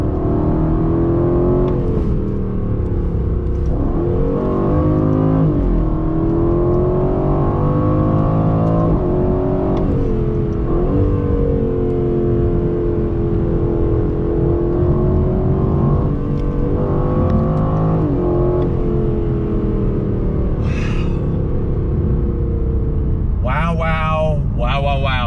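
2020 Aston Martin Vantage engine accelerating on throttle, a loud close-up roar that climbs and drops through gear changes. A person talks over it throughout.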